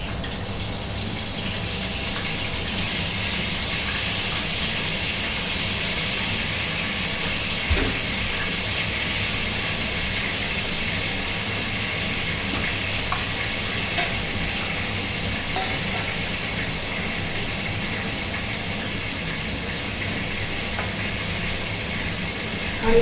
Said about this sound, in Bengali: মাছটা এখন ভাজা হচ্ছে